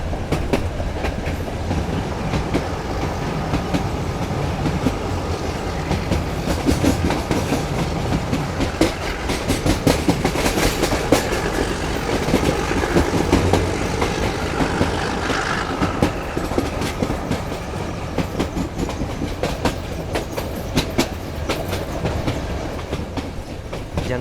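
A meter gauge passenger train rolls through Gir Forest in India, its steady clickety-clack of wheels on rail joints and rumbling wagons carrying on loud and close throughout, with no voices.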